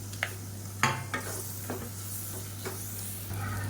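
Tomatoes and two broken green chilies sauté in hot oil with a continuous sizzle, while a spoon makes several sharp stirring scrapes and clicks against the pan.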